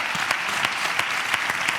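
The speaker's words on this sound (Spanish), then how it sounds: "Un aplauso faltaría para los más. amigos que han venido aquí de Iker" An audience at an interview event applauds for Iker's friends, giving steady, dense clapping with a few sharper claps poking through, close and fairly loud.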